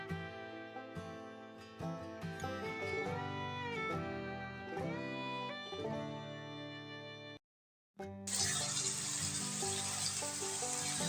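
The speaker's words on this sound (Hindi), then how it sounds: "चिकन का कलर चेंज होने तक हमने इसको फ्राई करना है।" Chicken pieces frying in a karahi for a creamy white chicken karahi: a loud, steady, hissing sizzle bursts in after a brief silence and carries on close by to the end.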